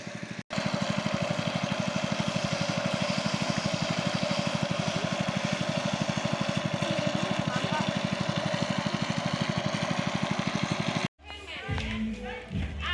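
A steady, loud engine-driven water pump drones continuously with a regular mechanical pulse while pumping water out during a volunteer clean-up at a rural school, then cuts off abruptly near the end, leaving quieter background sounds.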